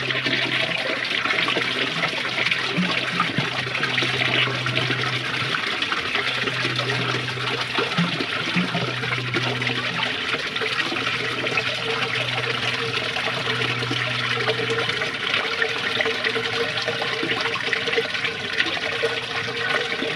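1996 Kohler Portrait Lite toilet with plugged rim jets flushing, a steady rushing and trickling of water heard close up throughout.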